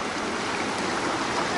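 Creek water rushes and burbles in a steady, close broadband wash, with no voices over it.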